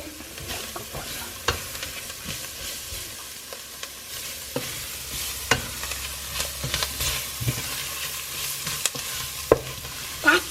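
Garlic and ginger sizzling in a pan for palak paneer while being stirred, soft steady frying under frequent scrapes and clinks from a spoon against the pan, growing busier toward the end, no talking.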